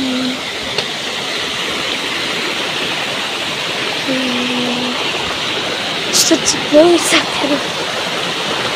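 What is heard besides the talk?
Bam river flowing water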